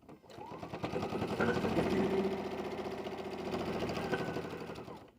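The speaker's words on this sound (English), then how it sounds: "So let's step to our machine and we'll stitch this." A sewing machine stitches a fabric pouch in one steady run, its rapid mechanical whir starting up, holding an even pace for several seconds and then winding down, close and fairly quiet.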